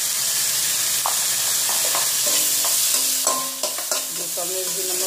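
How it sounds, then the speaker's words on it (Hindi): Potatoes, tomatoes and onions fry for dosa masala, a loud continuous sizzle with spoon clinks and scraping strokes against the pan, growing busier toward the end. "थोड़ा फ्राई कर लेते हैं।"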